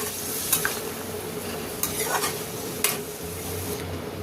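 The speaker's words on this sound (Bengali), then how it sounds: "এবারে জলটা ভালো করে এর সাথে মিশিয়ে নিচ্ছি।" Water is stirred into a hilsa head chorchori with vegetables in a pan, giving a steady sizzling bubble with a few sharp spatula scrapes and clinks against the pan.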